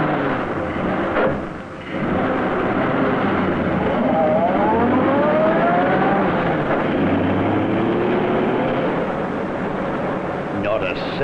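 A car engine starts and roars steadily in a radio drama, a loud continuous rumble with a swelling rev partway through and no voices over it.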